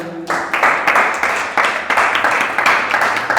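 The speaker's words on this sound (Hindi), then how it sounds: "तो मैं चाहूंगा इन सभी लोगों के लिए जोरदार ताली हो जाए।" Audience applause at a live hypnotism demonstration, a broad wash of clapping that swells in repeated waves, loud and sustained throughout with no clear voices on top.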